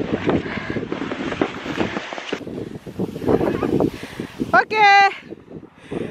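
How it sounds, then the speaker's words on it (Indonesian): Strong wind buffets the microphone on a snowy sledding hill, a steady rough roar under a person speaking, with a brief high-pitched tonal squeal near the end. "Aduh, anginnya kencang."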